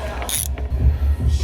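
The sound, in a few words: ratchet wrench with swivel head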